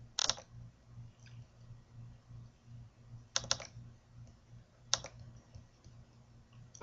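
Computer mouse clicks in sign-making software, heard as a few sharp isolated clicks spaced several seconds apart over a soft low electrical hum.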